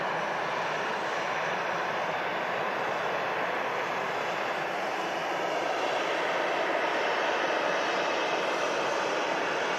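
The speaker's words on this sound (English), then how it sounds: "EasyJet on the taxi out to Milan there" An EasyJet aircraft taxiing out at Manchester Airport for a flight to Milan, with a steady, even jet engine whine and hiss at a moderate distance, continuous and unchanging, with no voices.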